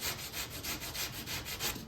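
Block sanding a car fender with 220 grit sandpaper, about nine quick, even back-and-forth rasping strokes in a steady rhythm, close and alone.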